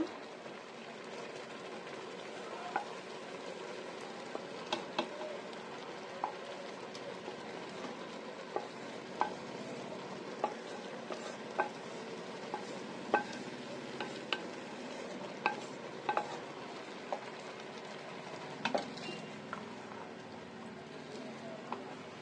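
Chicken pieces for biryani sizzle and fry steadily in a pan, a continuous hiss with scattered small pops and occasional stirring clinks throughout.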